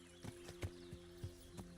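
In a medieval video game, a horse's hooves clip-clop in an even, unhurried rhythm of about six soft thuds over a low steady hum.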